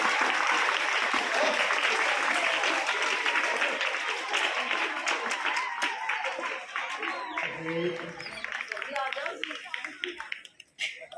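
Sustained clapping from a crowd at a government school's Republic Day celebration, dense and steady before thinning out into scattered claps near the end, with a voice briefly heard underneath.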